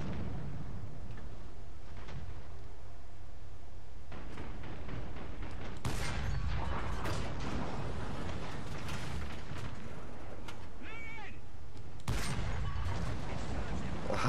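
Tank cannon fire from a tank battle video game: heavy booming shots with dense rumbling bursts, one big blast near the middle and another near the end, over a constant roar of battle noise.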